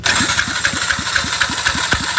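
A small engine fitted with an improvised pulser fires and runs with rapid, evenly spaced loud pulses, chugging close up and steady throughout.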